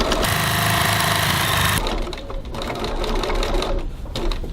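A sewing machine runs in a loud, fast, steady whir while basting the sides of a fabric bag together, then stops, leaving softer handling noises.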